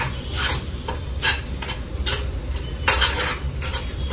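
A spoon scrapes and stirs chicken pachada in a metal pan, several close, rhythmic clinking strokes with soft sizzling underneath and no talk.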